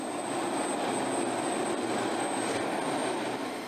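An F-16 Fighting Falcon single-engine jet fighter roars steadily at a distance, a broad, sustained rushing jet noise with a faint high whine that holds level throughout, with no talking.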